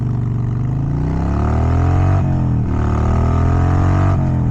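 A Harley-Davidson Sportster fitted with a Hammer Performance 1250 conversion kit pulls hard from a near stop, its loud, close V-twin rising in pitch through the gears with a brief dip at each shift.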